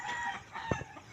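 A single short chicken cluck on a farm, fairly close, rising briefly out of a steady outdoor background of faint noise.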